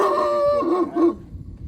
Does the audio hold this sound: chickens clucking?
no